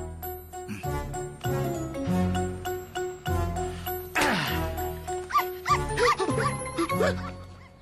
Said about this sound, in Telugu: కుక్కని తెచ్చావేంట్రా?